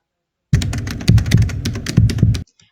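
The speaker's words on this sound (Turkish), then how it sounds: "klavye sesi koymak istiyorsunuz klavyesini alıp şuraya atıyorsunuz" Fast computer keyboard typing, used as a sound effect during video editing. It plays as a loud, close burst of rapid clacking keys lasting about two seconds, then stops abruptly.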